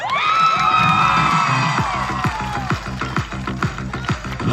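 A crowd cheers and whoops loudly for a wrestler at a traditional wrestling match, with shouts and children's cries over rapid, rhythmic clapping that continues steadily.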